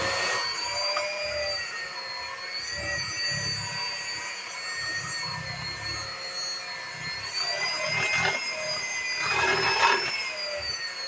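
Electric stand mixer whirring steadily as it mixes cranberry oatmeal walnut cookie dough, a continuous close motor drone with slight swells toward the end, no talking.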